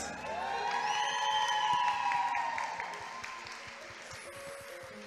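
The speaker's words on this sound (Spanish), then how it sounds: "le damos un fuerte aplauso a Team Universe Riviera Maya 2022, Ashley Bárcenas." At a Teen Universe pageant crowning in Riviera Maya, the crowd cheers and claps for the new winner, with loud whoops and rising tones swelling over scattered applause before it fades somewhat.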